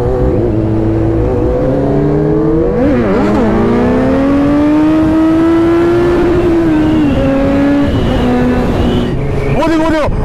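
An R15 motorcycle revs hard during a wheelie on snow. The engine whine rises and falls through several loud, close throttle swells, and excited voices talk over it.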